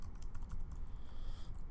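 Text is typed on a computer keyboard in a quick run of light, close keystrokes with an uneven rhythm over a low steady background hum.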